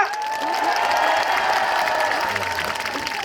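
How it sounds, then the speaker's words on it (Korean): A festival crowd at an outdoor city park claps and cheers for a trot singer, a loud, sustained burst of applause mixed with shouts, briefly overlapped by a voice. "다시 힘 한번 줘보실까요? 박수와 함성이요!"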